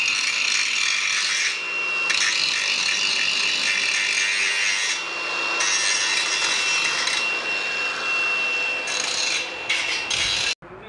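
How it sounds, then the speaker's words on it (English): An angle grinder grinds weld tails off metal in a continuous harsh, high rasp. The tone shifts slightly as the pressure changes, and the sound stops abruptly near the end. "Angle grinder gets rid of all the"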